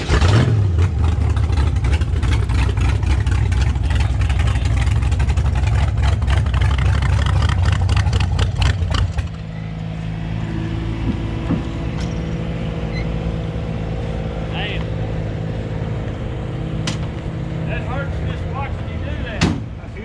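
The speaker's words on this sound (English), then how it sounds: "It's got a Buick nail head for power." Old truck powered by a Buick Nailhead engine with open headers, a loud, steady low rumble close by at first, then a quieter idle-like drone at an outdoor redneck rumble event, with people talking.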